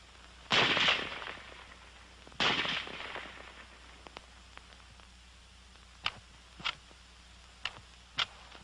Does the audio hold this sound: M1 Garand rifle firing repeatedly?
yes